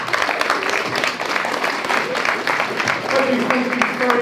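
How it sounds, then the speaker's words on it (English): An audience applauds at a youth event, a steady wash of clapping that carries on throughout with voices mixed in. "So, can we please give a round of applause for Tim Bowles?"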